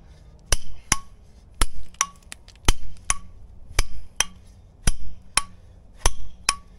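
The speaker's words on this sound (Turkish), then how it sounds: "Bir tane oraya vuruyor bir tane hızlı. Bir tane yavaş bir tane hızlı." An iron hammer strikes rock in a steady series of sharp, ringing blows, about fourteen hits, often in quick pairs with one slower and one faster stroke, close and loud with no talk.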